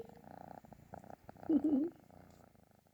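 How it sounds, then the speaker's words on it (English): A fluffy kitten purrs up close in a soft, rhythmic rumbling pulse that swells louder midway, with a faint voice-like murmur mixed in. "Somebody's purring"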